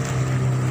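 Heavy open-sea swell around a small boat off Ransiki, a steady loud rumble of engine drone and rushing wind and water, continuous with no talk.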